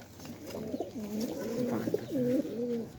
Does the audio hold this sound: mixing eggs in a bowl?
no